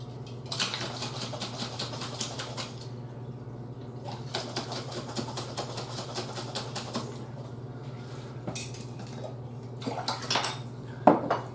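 A hard-boiled egg rattles inside a covered half-full jar as it is shaken to crack the shell, producing repeated rapid clattering bursts with short pauses between them, close and fairly quiet.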